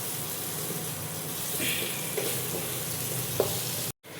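Boiled potatoes fry in a pan with a continuous soft sizzle, punctuated by occasional stirring knocks before it cuts off abruptly near the end.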